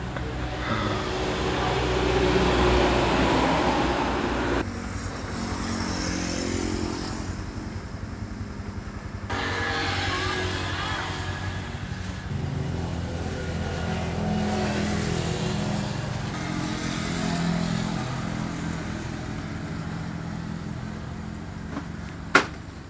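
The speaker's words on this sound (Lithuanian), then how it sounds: "Turbūt net jūs jau erzina tos visos fūros, kai aš neku kelyje." Heavy trucks roar past on a road, one loud rumbling pass after another with engines and tyre noise swelling and fading close by, over steady wind-like road noise and ending with a brief sharp knock.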